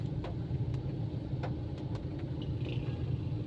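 Heavy road traffic rumbles steadily with car engines idling close by, a low continuous drone broken by a few faint knocks and clicks, with no voices.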